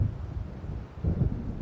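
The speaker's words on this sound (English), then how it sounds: "It seems there's a storm coming." Distant thunder from an approaching storm over coastal waves in the Alan Wake video game: a low, muffled rumble that swells briefly near the end over a soft windy background.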